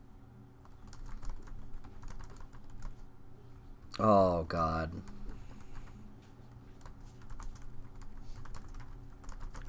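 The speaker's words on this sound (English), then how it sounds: "What are you typing right now?" Faint, scattered keystrokes from typing on a computer keyboard tick along steadily in the background, as a message is typed to a comic book letterer, and a person briefly exclaims midway through.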